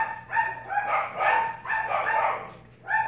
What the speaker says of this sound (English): And once again, I apologize for my dogs.